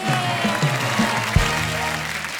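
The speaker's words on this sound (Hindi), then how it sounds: "एक बार हमारे तमाम मेहमानों के लिए जोरदार तालियां हो जाएं।" Studio audience clapping for guests on a Hindi TV comedy talk show, with music playing underneath and a sharp hit near the middle.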